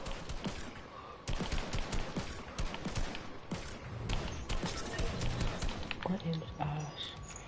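Rapid gunfire bursts crackle through a video game, volleys of shots repeating in quick succession with a dense, clattering texture throughout.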